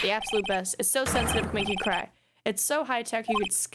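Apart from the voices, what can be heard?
None of the usual background noises is heard.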